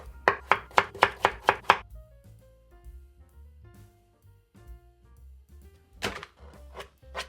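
Rapid knife chops on a cutting board while preparing potato soup, about seven quick strikes in a row, then quiet clinks and a few more chops near the end.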